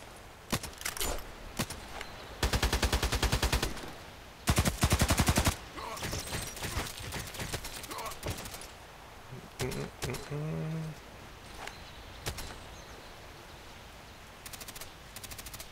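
Bursts of automatic gunshots in a video game, loud rapid volleys separated by quieter stretches with a few single shots and other game noises, and a voice talks between bursts.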